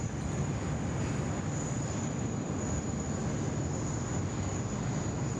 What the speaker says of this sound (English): There is our Qantas 3 heading off to New York via Auckland. This morning, just climbing out of runway 34 right there.